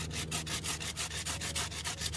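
Hand saw cutting through a pear tree rootstock before grafting, a steady rhythmic rasp of strokes, about ten back-and-forth passes in two seconds, close and fairly loud with no talking.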